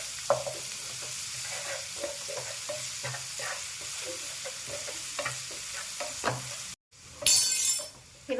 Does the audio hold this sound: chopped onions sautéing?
yes